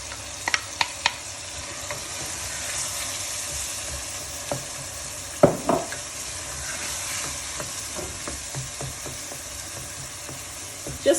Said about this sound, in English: I'm going to fry the onions now.